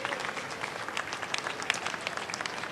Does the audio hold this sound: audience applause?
yes